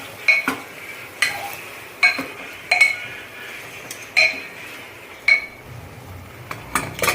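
A spoon clinks against a pot while chicken gravy is mixed with water. Sharp metallic taps recur every second or so over a soft background hiss.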